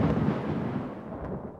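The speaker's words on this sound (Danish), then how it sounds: "Tordenvejret er på vej væk." Softer, distant roll of thunder in a cartoon thunderstorm that is moving away, a steady low rumble lasting about a second and a half, with no voices.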